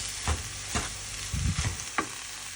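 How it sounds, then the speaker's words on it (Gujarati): A spiced potato and pea samosa filling is stirred in a frying pan, four or five scraping strokes of a spoon against the pan over a steady sizzle, close up, with no voices. "બટેકા, વટાણા અને મીઠું બધું નાખી દીધું છે. હવે મસ્ત મસાલાને મિક્સ કરી દઈશું."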